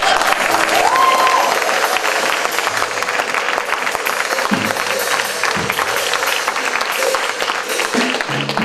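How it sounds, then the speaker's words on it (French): A large crowd at a church men's convention applauds steadily, a sustained wash of clapping with some scattered cheers and voices mixed in throughout. "Je voudrais qu'on acclame Dieu pour tous les serviteurs de Dieu qui sont là"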